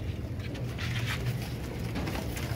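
Soft cooing and low murmuring from a group of sixteen Teddy pigeons, steady and close, with faint rustling and no voices.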